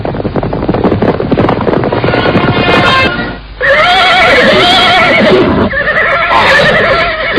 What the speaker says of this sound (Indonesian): Lihat, ada orang-orang berkuda menuju kemari.